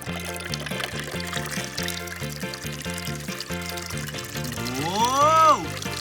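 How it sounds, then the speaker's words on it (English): Water poured into a container while making lemonade, heard as a continuous filling pour under a bright, playful musical backing that ends in a rising sweep. "let's add our water"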